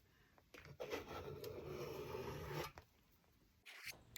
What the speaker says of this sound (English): I'm going to speed through the scraping here